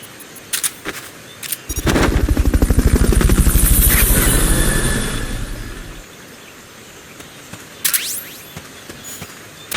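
A helicopter rotor in Metal Gear Solid: Peace Walker HD Edition thumps loudly for several seconds, swelling and fading, with a few sharp bangs and clicks before and after.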